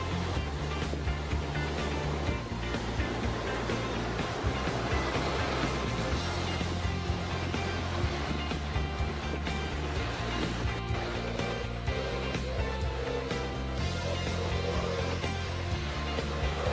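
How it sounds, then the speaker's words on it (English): A racing powerboat's engine roars continuously as the hull pounds through choppy sea during the Cowes Torquay powerboat race, with wind and spray noise filling every moment. "this is the leading boat battling through ahead of the fleet."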